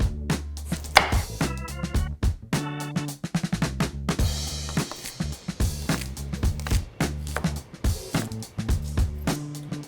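A knife chops sugar snap peas and other spring vegetables on a cutting board in quick, uneven bursts of crisp close taps, with brief pauses and a few louder knocks.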